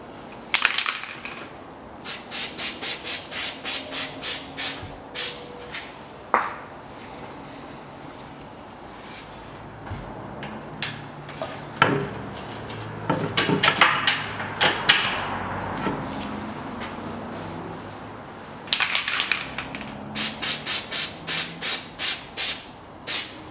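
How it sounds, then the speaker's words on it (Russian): Greased bolts being fitted into the rear upper suspension arm of a 1998 Toyota Mark II JZX101, with rubbing and scraping metal sounds, bursts of rapid ratcheting clicks at the start, middle and end, close and fairly quiet. "А вот теперь болты смазываю и ставлю."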